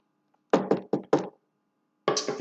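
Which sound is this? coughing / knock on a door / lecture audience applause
knock on a door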